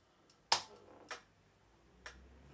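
A sharp clap drum sample in music production, three crisp dry hits with short decays, the first loudest, spaced irregularly over a quiet background.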